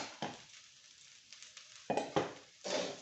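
A spatula scrapes and clinks against a pan while fried egg and cauliflower are gently mixed, with a few sharp metallic taps standing out over a soft sizzle.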